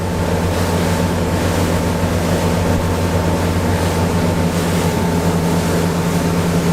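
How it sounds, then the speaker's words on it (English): Heading straight into a 20-knot wind on Waterloo Bay, a Deep V Rumbler boat cruises at 16 knots, giving a continuous engine hum blended with heavy wind noise and hissing spray, with no voices. "We've dropped the boat speed back to 16, just for comfortable cruise."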